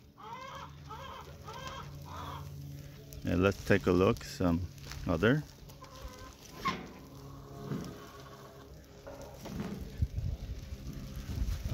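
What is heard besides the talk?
hens clucking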